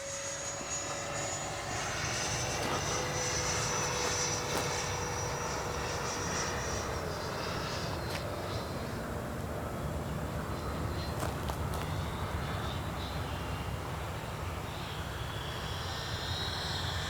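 A 90mm electric ducted-fan Eurofighter RC jet comes in to land, a faint, steady whooshing fan whine that drifts and fades slightly, heard from a distance.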